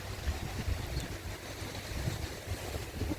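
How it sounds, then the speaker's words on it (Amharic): Strong wind buffets the microphone in a steady roar, with low gusty thumps rising and falling throughout. "ዛሬ በጣም ንፋስ አለ፣ ኃይለኛ ንፋስ"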